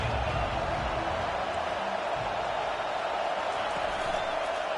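A home crowd roars at a college football game, a steady loud wash of cheering that holds without a break across the whole stretch.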